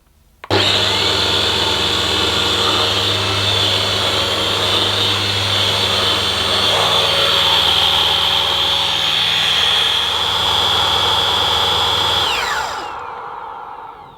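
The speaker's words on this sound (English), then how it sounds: "So let's switch on, see what the brush roll sounds like." A Henry Quick corded vacuum cleaner's rotating brush roll switches on with a click and runs as a loud, steady whirring hum with a high whine, shifting pitch partway through before winding down and stopping.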